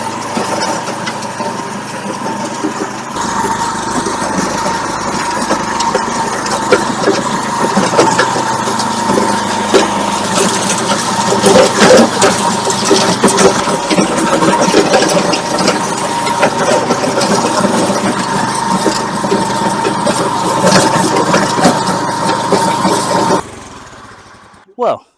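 A large garden tiller engine runs steadily and loudly while churning stony ground, holding a rough, continuous drone for over twenty seconds before cutting out near the end.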